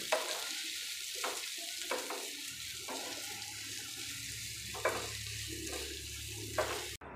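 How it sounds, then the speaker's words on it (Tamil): Onions sauté with a pinch of salt in a pan for a prawn dum biryani, frying under a soft steady hiss while a spatula scrapes and knocks at intervals. "வெங்காயம் வதங்கிறதுக்காக ஒரு 1/4 ஸ்பூன் உப்பு ஆட் பண்ணிக்கிடுவோம். நல்லா வதக்கிக்கிடுவோம்."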